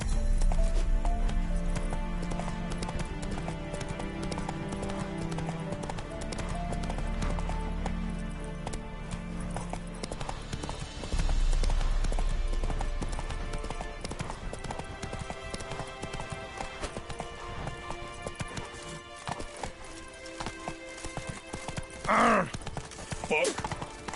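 A horse gallops in The Witcher 3 with steady, rhythmic hoofbeats clip-clopping close by. Background music plays and someone speaks at times over the hooves.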